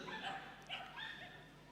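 A small terrier barks and yips at an indoor mini agility competition at a large dog show, a few sharp barks with a whimper over steady crowd and arena noise.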